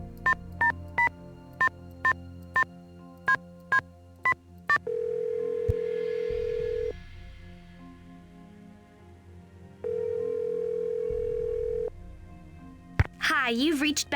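A telephone in the Nancy Drew game Stay Tuned for Danger: a quick run of about a dozen dialing beeps, then a steady dial tone, a pause, another long tone, and finally a burst of electronic warbling at the end.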